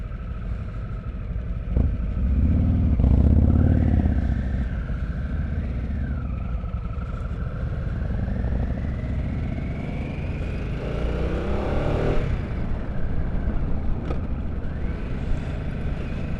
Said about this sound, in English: Out here, the Harley demo ride on the Nightster.